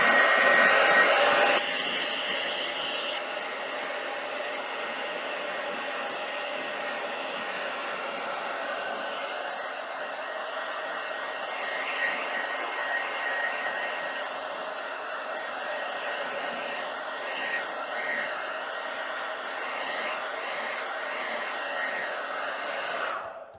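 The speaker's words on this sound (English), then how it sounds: "So I'm going to use my hairdryer." A hair dryer blows continuously at close range, a steady whirring hum with a slight drop in pitch after the first moments.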